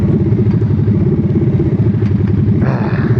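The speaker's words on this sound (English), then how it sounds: "Alright, here comes the exhaust rev." Motorcycle exhaust revving up close, a loud, rough, pulsing engine rumble that holds steady throughout, with a brief rise near the end and no talking.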